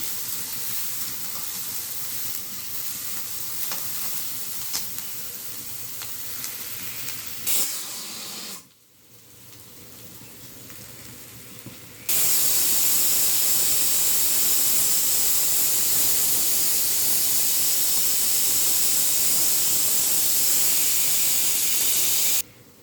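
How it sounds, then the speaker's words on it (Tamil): Chopped banana stem and carrot sauté in a pan, giving off a continuous hissing sizzle. The sizzle drops briefly in the middle and then comes back louder and brighter until it cuts off at the end. "இது நல்லா வதங்கி வரட்டும்."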